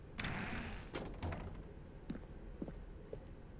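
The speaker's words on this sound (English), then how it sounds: "Stanley walked through the red door." A door in the video game The Stanley Parable gives a series of soft thuds and clicks, several brief knocks spaced over a few seconds against a quiet room tone, with no talk.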